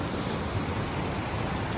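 The Raparapahoe waterfall gives off a steady, broad rushing roar of falling water. It is continuous and fairly loud, with no voices over it.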